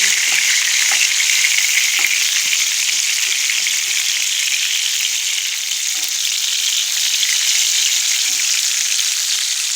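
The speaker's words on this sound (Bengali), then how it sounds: "তো আগে বেগুনটা ভেজে নিই" Eggplant fries in a frying pan, a loud, continuous hiss of hot oil crackling steadily throughout, with faint scattered pops beneath and no voices.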